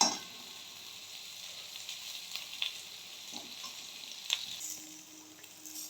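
Vegetables frying in oil for a rohu fish curry, a soft continuous sizzle with occasional louder crackles and stirring clatters, fairly quiet and with no voices.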